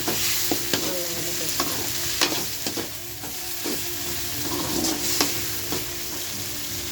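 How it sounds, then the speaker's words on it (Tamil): Tomatoes fry in oil in a pan for fish curry, giving a constant loud sizzle with repeated spoon scrapes and taps as they are stirred, and no voices. "நம்ம தக்காளி சேர்க்கலாம் தக்காளி சேர்த்து"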